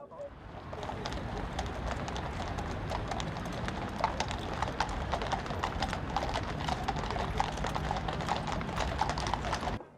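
Cavalry horses' hooves clip-clop steadily on a road during the King Charles III coronation procession, the procession including four cavalry divisions of 24 horses each; a dense, continuous patter of many hooves, with pigeons cooing faintly in the background.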